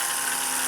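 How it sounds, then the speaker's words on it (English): A Singer 201-1 sewing machine winds a bobbin with a steady, close, high-pitched whir that holds at an even level for under a second. "And it just winds right up."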